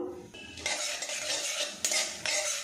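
Panch phoron spices drop into hot mustard oil in a wok, giving a bright crackling sizzle with scraping and stirring against the metal, loud and close, in two bursts with no voices.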